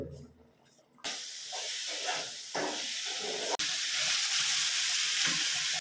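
Country chicken intestines frying in a pan, with a loud, continuous sizzle and hiss that starts abruptly after a quiet moment, dips briefly, then carries on strongly, with faint voices underneath.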